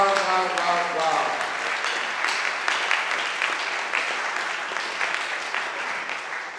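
An audience at a graduates association launch event applauds after a speech, a sustained burst of clapping that holds loud throughout with voices mixed in.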